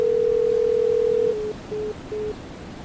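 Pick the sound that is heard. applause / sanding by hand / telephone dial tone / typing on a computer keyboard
telephone dial tone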